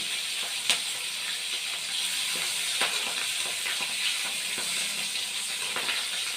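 Chopped chillies with a pinch of hing fry in hot oil, a steady bright sizzle and hiss running throughout with occasional small pops and crackles, close and with no talking.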